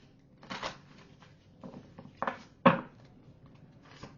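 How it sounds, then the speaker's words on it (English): Brand-new oracle cards being shuffled by hand, soft papery riffling and slapping in a few short bursts with quiet pauses between, close and fairly faint. "One more shuffle, Lou."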